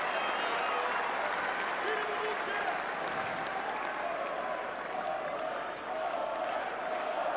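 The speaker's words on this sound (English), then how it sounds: "They're clapping, they're cheering, they're appreciating that this might just be a turning point." A Wimbledon crowd at a Day 12 championship match claps and cheers in sustained, dense applause that fills the court, loud and unbroken for several seconds.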